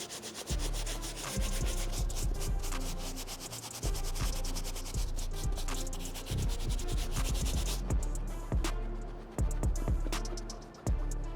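Cleaning brush scrubbing the toe box and tongue of Nike Futura Dunks, close and loud rapid bristle strokes in busy bursts with brief pauses, no talking.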